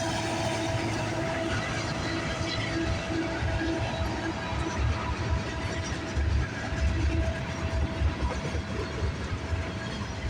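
A CN freight train with locomotives rolls steadily past at close range, a continuous heavy rumble of wheels and cars with faint clanks, lasting throughout.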